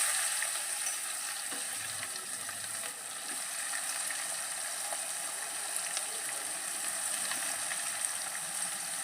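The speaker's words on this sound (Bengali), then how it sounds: "এবার পেঁয়াজটাকে খুব ভালোভাবে ভাজা করে নেব।" Onion frying in hot oil with melted sugar and whole garam masala, cumin, dried red chilli and bay leaf, a steady, even sizzle that holds close and constant throughout with no voices.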